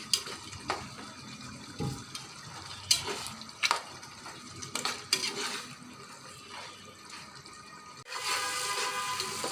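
A fish head is stir-fried with shidol fermented fish in oil, giving a soft, continuous sizzle with irregular scraping and stirring strokes. The sound is fairly faint and close, with no voices, and grows into a louder hiss near the end.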